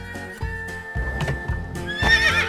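A horse whinnies over rhythmic clip-clop hooves, the neigh rising loud near the end, set against steady music in a comedy telefilm segment.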